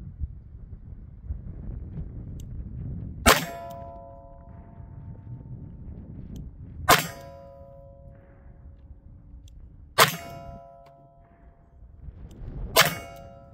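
Four sharp .38 Special revolver shots, including a Colt Python, fired at targets outdoors, each a loud crack with ringing tail, spaced about three to four seconds apart over wind noise.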